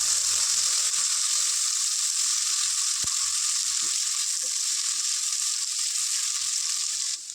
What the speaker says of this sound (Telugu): ఇందులో ఒక టూ ఆనియన్స్ ఒక ఫోర్ మిర్చి వేసుకున్నాను వీటిని లైట్ గోల్డెన్ బ్రౌన్ కలర్ వచ్చే వరకు ఫ్రై చేసుకుందాం